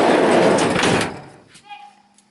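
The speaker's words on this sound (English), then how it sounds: "So yeah, so this door is probably going to be pretty noisy" A van's sliding door rolls and thuds shut in one loud, broadband burst that fades over about a second, followed by a quieter rattle and a brief voice.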